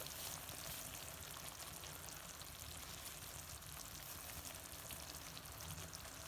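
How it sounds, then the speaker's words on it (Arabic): Chicken tajine with vegetables frying in a pan, giving a faint, even crackling sizzle that holds steady throughout with no talk. "ها هو الطاجين راه كيطيب مزيان تقلى"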